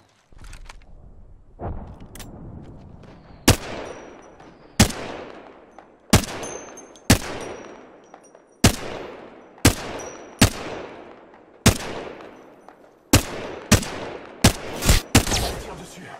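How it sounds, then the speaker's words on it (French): Gunfire from shooting at an enemy in Apex Legends: about a dozen sharp, loud single shots spaced roughly a second apart, quickening into a tight cluster near the end, each with a ringing decay and no speech. "Je tire dessus."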